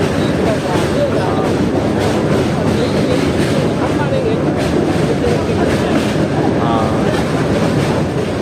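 Local train running on rails between Asansol and Dhanbad, a loud continuous rumble with rhythmic rattling of the carriage, heard from inside.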